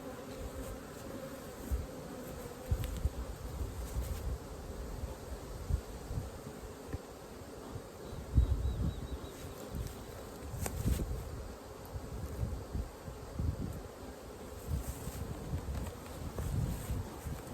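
Honeybees humming around an open hive on a homestead, a faint, steady low drone with soft rustles and the odd louder pass of a nearby bee, no voices.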